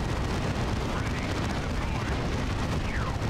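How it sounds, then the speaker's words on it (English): Dense, continuous battle noise from the video game Warhammer 40K: Dawn of War 2 Retribution with Space Marines, a loud wall of gunfire and explosions that barely lets up, while voices talk underneath. "just unleash another barrage of bullets and explosives"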